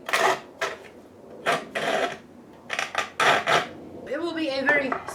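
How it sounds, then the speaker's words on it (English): Material for miniature faux water being cut slowly by hand: several short, scratchy strokes at irregular intervals, close and fairly loud, with a brief voice near the end. "It will be a very slow going process, but the cutting is happening."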